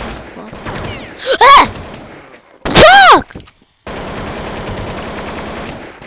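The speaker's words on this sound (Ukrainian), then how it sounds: "перезаряджається і різко в мене починає стріляти" Counter-Strike 1.6 gunfire comes in two loud automatic bursts, each about half a second long, with game sounds between them and a sustained noisy stretch afterward.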